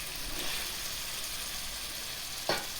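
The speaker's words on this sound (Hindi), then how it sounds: "अरबी डालकर अच्छी तरह इसको भूनना है हमने" Taro root and spices sizzle steadily as they fry for arvi chicken, a continuous close hiss with a brief sharp stir or clatter near the end.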